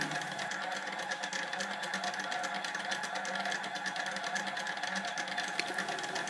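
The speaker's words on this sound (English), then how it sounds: "The speed of the stepper motor is continuously adjusted and depends upon the beam's speed, acceleration, direction and forecasted balance position." Automatic powder trickler driven by a stepper motor, dispensing Norma N202 powder onto a beam scale: a continuous, close, buzzing mechanical whir with rapid fine pulsing, steady in loudness throughout with no talk.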